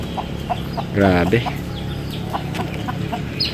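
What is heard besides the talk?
Rhode Island Red chickens clucking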